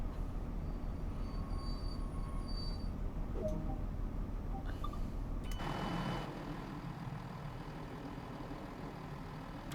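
Class 166 diesel multiple unit running in the Train Sim World 2 simulator at Gatwick Airport, a steady low engine and rail rumble with faint clicks and a brief squeal, easing slightly partway through.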